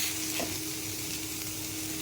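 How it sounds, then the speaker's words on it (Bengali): Taro paste with nigella seeds being stirred in oil in a wok makes a quiet, even frying sizzle with faint stirring scrapes, short and steady, with nobody speaking. "তাই জন্য আমি একটু কড়াইয়ে কালো জিরে আর তেল দিয়ে একটু নেড়ে নিচ্ছি"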